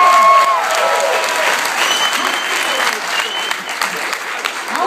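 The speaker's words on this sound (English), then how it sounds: "Can we give a round of applause for Lynn Hart?" An audience at a spring comedy show bursts into sustained applause and cheering, a dense wash of clapping that stays loud throughout, with a voice briefly heard over it.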